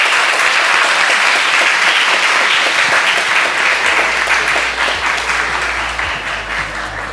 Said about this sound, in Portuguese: Eu queria pedir uma salva de palmas aos nossos finalistas